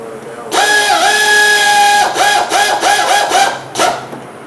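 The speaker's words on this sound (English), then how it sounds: "Now we already got our air ratchet out. We can just run it down." Air ratchet running down the retainer nuts during a front wheel bearing replacement on a C4 Corvette: a loud, close, high whirring spin in one long burst, then several shorter pulses as the nuts seat.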